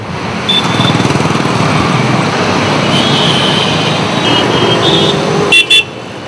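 A motorcycle with a modified silencer roars loudly on a busy Hyderabad road, its exhaust giving a rapid, pulsing engine beat, and a couple of short horn toots come near the end.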